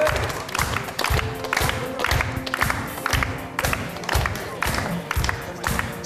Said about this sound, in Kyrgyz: Кол чаап коелу.